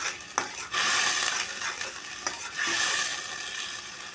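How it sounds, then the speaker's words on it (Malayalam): Food stir-frying in a pan, a steady sizzle with scraping stirs and a few sharp clinks of a utensil against the pan, close and continuous with no talking. "ഇട്ടിട്ട് വറുക്കുക"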